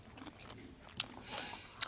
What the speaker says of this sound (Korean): 아삭아삭 소리가 여기까지 막 들려요.